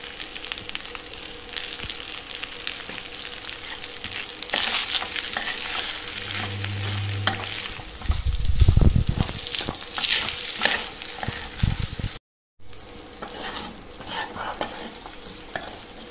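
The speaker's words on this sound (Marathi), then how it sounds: "आपण ते ह्या तांदळामध्ये घालून त्याला परत चांगलं परतून घेऊया" Rice sautéed in a pan with sesame, coconut and spice masala, a continuous sizzle broken by repeated scraping stir strokes and a louder burst midway, then a brief dropout before the frying resumes.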